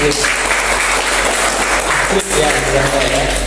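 Listeners at a university teaching session applaud a question, a thick, loud spread of clapping over a steady low hum, with a voice or tonal sound emerging in the latter half.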